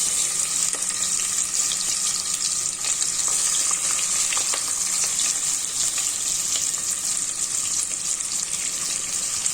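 Two onions frying for a jeeraga samba chicken biryani, giving a steady, fairly loud hiss with scattered crackles and pops that runs without pause under no talk.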